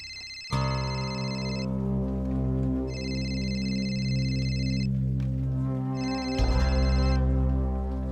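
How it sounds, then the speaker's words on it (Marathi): An electronic phone ringtone repeats in regular bursts, fairly clear and steady, with a low hum underneath. "फोन वाजतोय वाटतं."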